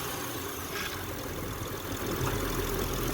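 A Honda Ridgeline V6, just fitted with a new power steering pump, runs at a steady close idle with a continuous low rumble and no talking.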